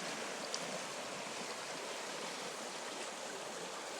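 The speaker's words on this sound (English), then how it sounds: "by this beautiful running mountain stream, and it's running a lot heavier since it started raining" A mountain stream in a Montana park runs heavy after rain, a constant broadband rush of flowing water. It is steady and fairly soft, and nothing else is heard over it.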